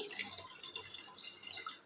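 Faint, close trickling and dripping of water from freshly washed pumpkin shoots, small irregular drops pattering quietly with no voices.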